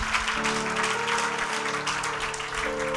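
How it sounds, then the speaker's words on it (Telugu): Applause from a church congregation during a Telugu worship service, a steady dense wash of clapping for the full three seconds with sustained organ or keyboard tones running underneath. "చప్పట్లతో స్తోత్రం చేయండి"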